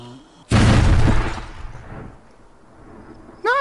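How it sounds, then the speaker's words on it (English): A grenade in the zombie shooter Arizona Sunshine goes off in a loud, sudden blast that rumbles and decays over about a second, trailing into low debris noise before a short rising tone. "Grenade."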